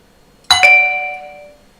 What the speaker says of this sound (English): That's what the ding dong was about.